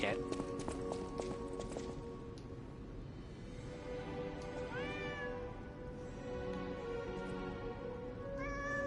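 A cat meows a few times in the game Lies of P, rising and falling cries midway through, over steady ambient game sound, music and hoof-like clopping, with someone talking over the scene.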